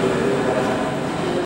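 Pyongyang metro station with 1960s German-built trains, a steady broadband rumble of rolling stock and station hum filling the space at constant loudness, with a faint tonal whine running through it.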